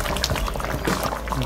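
Coconut milk goes into a simmering eggplant curry, making a steady bubbling, liquid sound close by with no talk over it.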